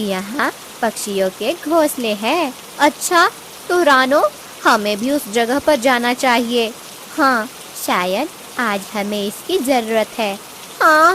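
Rain falls as a steady hiss beneath animated cartoon dialogue, with voices talking almost continuously over it.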